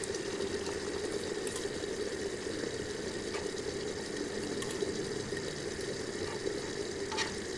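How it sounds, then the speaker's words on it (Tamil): Omelette egg batter poured onto a hot griddle gives a steady, even sizzling hiss that holds at a constant level throughout, close and moderately loud, with no talking. "ஆம்லெட் ஊற்றிக்கலாம்"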